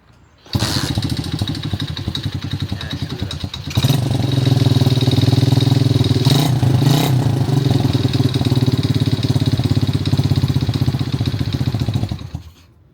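A cheap pit bike's small single-cylinder engine fires up and settles into a loud, steady idle, revving slightly higher partway through before cutting off near the end; close and alone without talk.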